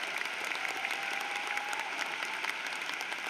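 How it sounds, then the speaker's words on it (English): A large crowd at a university commencement ceremony applauds continuously, dense clapping filling the space at an even, sustained level. "Graduating, let's give Thomas a round of applause."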